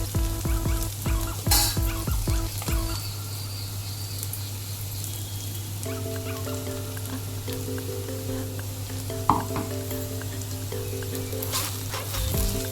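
Okra fries in a pan with a ground garlic and chili powder, giving a steady, close sizzle throughout, with a few stirring clatters at the start and one sharp scrape later, and no talking.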